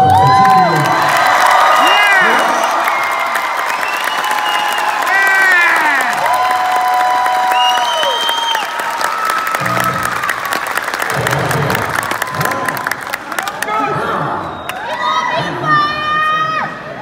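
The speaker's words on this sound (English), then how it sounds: "I think we should give her a round of applause" Concert crowd at a show cheering, whooping and clapping loudly in a large hall, with high shouts and whistles rising over sustained applause and voices in the mix.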